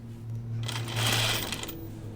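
A sewing machine stitches the second seam of a garment sleeve, a short, close burst of rapid mechanical whirring that starts quickly and fades after under two seconds, with no one talking.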